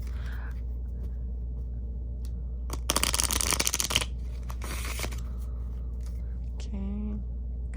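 A deck of tarot cards is riffled and shuffled in a quick burst of crisp flutter over a steady low hum, with a brief tone near the end.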